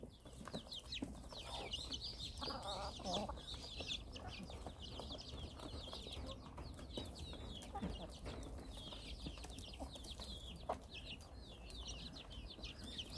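Native Korean chickens and Cheonggye chickens cluck and call over 13 seconds as they gather with rabbits for their morning feed, many short overlapping calls at moderate distance over a constant low rumble.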